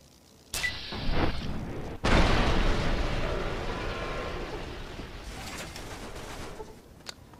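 Missile explosion in the Fallout 3 video game: a sharp blast, then a second heavy boom that rumbles and slowly fades over several seconds, loud and close, with no talking.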